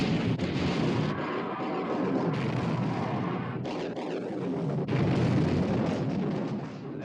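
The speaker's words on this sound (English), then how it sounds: "All turrets ready to open fire, sir. Open fire! Fire!" Warship gun turrets firing in the 1960 British naval film Sink the Bismarck!, heavy booming salvos and rumbling blasts rolling continuously, loud and dense.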